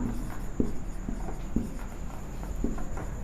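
Pen or marker writing on paper or a board during a Class 12 determinant maths lesson, with light repeated scratchy strokes and taps at a steady pace, fairly close, over a faint background hum and no talking.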